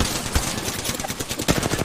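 Rapid gunfire in Apex Legends: a close, fast stream of shots rattles steadily for about two seconds with no talking over it.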